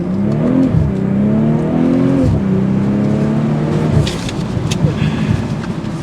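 A 2023 BMW M440i in sport mode accelerates hard, its engine and exhaust roaring loudly and rising through gears with pitch drops at shifts, settling into a steadier drone with road noise.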